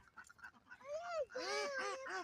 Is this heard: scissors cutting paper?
no